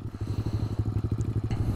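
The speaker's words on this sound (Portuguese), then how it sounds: "Deixa eu desligar ela aqui. Essa moto aqui é muito forte, cara." A powerful motorcycle engine idles close by with a steady, rapid chugging pulse and a loud low throb that continues throughout, with no talk over it.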